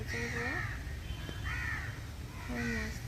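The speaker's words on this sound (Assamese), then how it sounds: "চৰাই চিৰিকটি মাতবোৰ শুনিছে" Crows caw near a temple in Dibrugarh, three loud, harsh calls spaced about a second apart over a steady low outdoor rumble.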